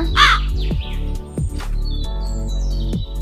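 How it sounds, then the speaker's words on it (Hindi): A crow gives a few harsh caws over a steady low hum, with faint chirps and thin whistling tones scattered in the background. "ऐसे ही कालू कौवा वो मुर्गी चुरा लेता है।"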